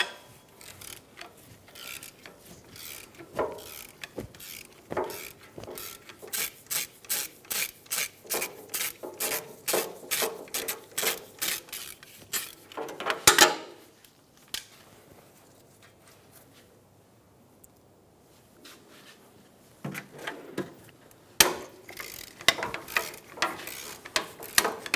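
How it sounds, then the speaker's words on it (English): Rapid bursts of ratcheting from a 13mm socket on a 1/4-inch ratchet loosening exhaust manifold nuts on a 2007-2017 Ford Expedition 5.4L V8, close and repeated, with a pause midway before the clicking resumes. "Using a 13mm socket, we're going to start to remove the manifold nuts."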